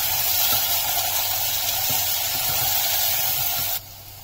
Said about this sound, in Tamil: இப்போ தக்காளி சேர்த்துக்கலாம்.